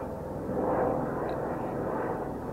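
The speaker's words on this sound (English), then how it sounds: "Look at this helicopter flying overhead." A scenic tour helicopter flies overhead in the Grand Canyon, heard as a steady, distant, muffled engine rumble that holds at an even level throughout.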